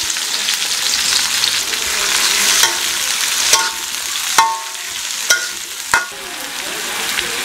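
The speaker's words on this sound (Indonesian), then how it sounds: "Sekarang kita tumis semuanya, masukin aja. Tumis sampai harum." Lemongrass, ginger, garlic, shallots and aromatic leaves sautéing in hot oil, a steady close sizzle with a few sharp clinks and stirring knocks near the end.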